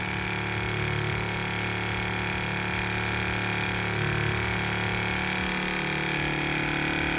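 A Vortex Stirrer Turbo shakes a paint bottle at maximum setting, giving a loud, constant motorised hum and rattle that holds steady the whole time without speech.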